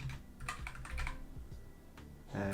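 Close, quick keystrokes on a computer keyboard in short irregular bursts, with brief gaps between clusters of clicks. No speech.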